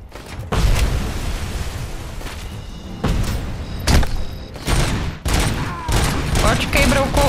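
Bursts of gunfire and booms in the RoboCop: Rogue City demo, repeated loud volleys of shots separated by brief gaps, with someone talking between the bursts.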